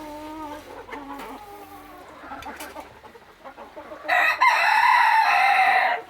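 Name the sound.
young Silkie chickens clucking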